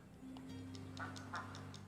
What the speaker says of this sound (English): Oh, that other duck's following me.